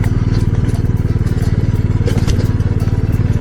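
Motorcycle ridden over a rough, broken mountain road toward Pangong Tso in Ladakh, its engine a steady loud low throb close by, with clatter and thuds from the bumpy surface throughout.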